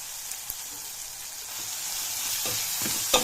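Ginger garlic paste is stirred into tomatoes frying for chicken biryani, giving a soft steady sizzle with a few light scrapes and taps of a spoon near the end, close and quiet.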